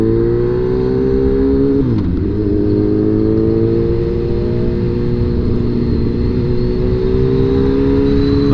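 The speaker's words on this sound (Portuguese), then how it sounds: "Olha só que monstro, olha só que monstro. Suzuki B-King aqui, nas minhas mãos, é do Ramos." A Suzuki B-King motorcycle engine revs loudly and close, with a brief dip in pitch before climbing again into a sustained, rising roar.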